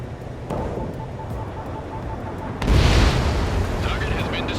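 A radar vehicle target is destroyed in Ace Combat 7, with a sudden loud boom hitting midway and a rumbling blast tail that fades over continuous jet-engine roar, while radio chatter carries on underneath.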